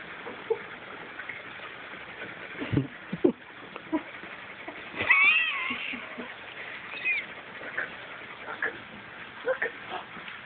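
A cat meows a few times, with scattered thumps and shuffling nearby and a faint voice at moments.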